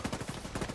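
Rapid automatic gunfire in The Division 2, a fast burst of close, punchy shots in a steady rhythm lasting under a second, with no talk.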